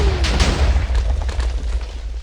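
TNT detonating in Minecraft with the Too Much TNT mod: a loud, deep boom followed by rolling, rumbling blasts and crackling bursts that carry on through the whole moment.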